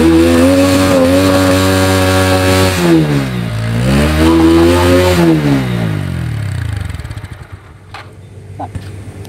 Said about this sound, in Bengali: এক্সস্ট এটা খুবই সুন্দর, আমি যদি আপনাদেরকে এক্সস্ট সাউন্ডটা একটু শোনাই